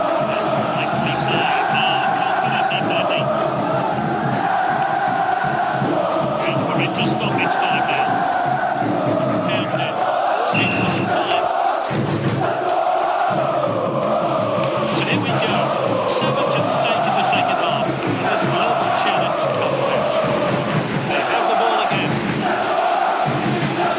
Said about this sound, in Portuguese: A torcida faz festa no estádio!